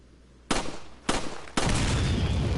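Three sharp, loud explosion blasts in the video game Resident Evil 4, about half a second apart, the last one trailing into a sustained roaring rumble with no speech.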